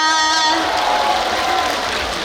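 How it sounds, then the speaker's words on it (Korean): Audience applause at the opening ceremony of the 2024 Jeongseon Arirang Festival in Jeongseon's public stadium, following a performance by a trot singer: a brief burst of loud, dense crowd clapping that follows a short vocal or musical tone. "다시 한 번 뜨거운 박수 부탁드리겠습니다"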